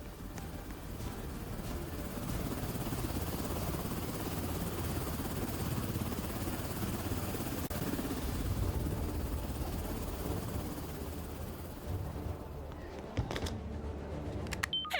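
A Roblox helicopter's rotor thumps and engine roar fill the clip continuously, loud and near, with a few sharp clicks toward the end.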